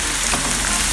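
Green plantains fry in oil that is a little too hot, giving a steady, close sizzle and crackle with no voices.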